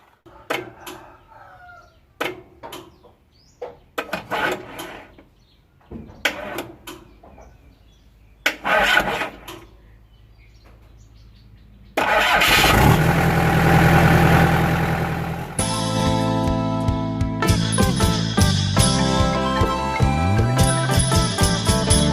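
Thai combine harvester, parked for two months, cranks and its engine starts, settling into a loud steady mechanical run with tonal whine after some earlier scattered clatter and knocks.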